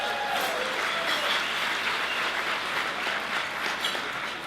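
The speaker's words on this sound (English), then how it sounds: "Give yourselves a round of applause" Guests at an awards luncheon give a round of applause, a steady, even roar of many hands clapping in a large room, sustained throughout at moderate distance.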